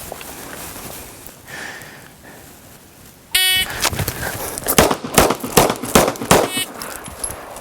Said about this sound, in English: we'll go from the holster, shooting on the move while moving backwards